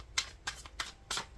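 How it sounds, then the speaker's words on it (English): Four quick riffling bursts of cards being shuffled, close up and evenly spaced, with faint room noise between them. "I'm gonna shuffle."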